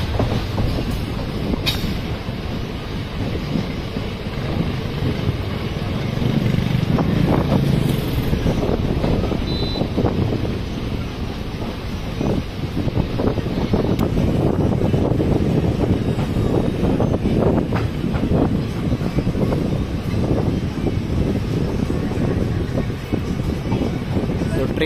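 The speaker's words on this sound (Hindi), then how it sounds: "ट्रेन पहुंच चुकी है पूरनपुर रेलवे स्टेशन पर" A train rolls into Puranpur railway station, its dense rumble and rattling wheels carrying loudly and steadily throughout, with occasional squeals and voices mixed into the platform noise.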